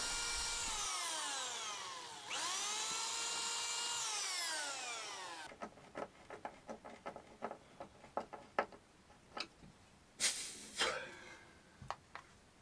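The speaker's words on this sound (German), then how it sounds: "Löcher bohren, also vorbohren" A power drill whines up and slows, then bores pilot holes into paulownia wood with a string of sharp creaks and grinding bursts, close by.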